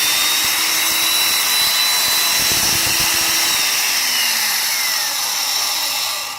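A Rotabroach 10904 magnetic drill runs in a shop, a loud, steady motor whine that holds for the whole stretch and only begins to fade at the very end.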